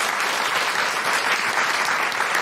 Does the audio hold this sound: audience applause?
yes